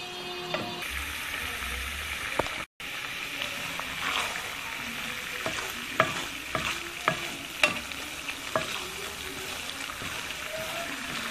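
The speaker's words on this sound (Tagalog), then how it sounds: "Kumukulo na po yung ating coconut milk, alalayan po natin sa paghahalo." Coconut milk boiling in a pan while being stirred to make latik, with a steady bubbling sizzle and occasional sharp utensil scrapes and taps against the pan.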